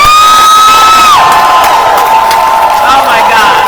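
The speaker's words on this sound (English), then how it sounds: "I want you to yell and scream for the person who created the Black Women's Expo, Mary Green." A large expo crowd at a ribbon-cutting event erupts in loud, sustained cheering, screaming and whooping, a dense wall of voices that holds steady throughout, with a high sung or shouted note at the start.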